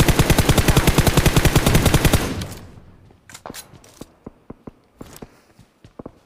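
Gunfire in a shooter video game: a rapid, loud burst of automatic fire for about two seconds, then a quieter scatter of separate single shots and clicks, sharp and close.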